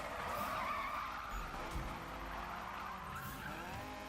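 Tires on a Mazda MX-5 squeal steadily as the car drifts in the racing game Need for Speed (2015), a continuous loud screech over engine drone with no talking.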